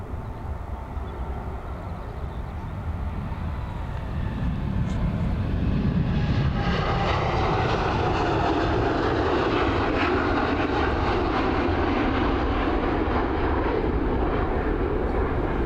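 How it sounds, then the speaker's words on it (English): An American Airlines Boeing 787-8 Dreamliner jet departs Dublin Airport, its engine roar building steadily into a loud, sustained broadband rumble and whine that holds to the end without talk. "AA723 heading over to Philadelphia, this 787-8 series Dreamliner."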